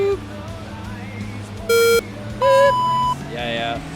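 Electronic start beeps of a hypercar race in a racing video game sound as separate tones, two short high beeps and then a longer one, over a low engine drone, with someone talking quietly beneath.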